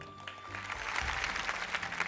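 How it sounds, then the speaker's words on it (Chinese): A studio audience claps steadily at a televised archaeology lecture show, a dense, even patter that holds for about two seconds with no voices over it. "给我们鼓鼓掌"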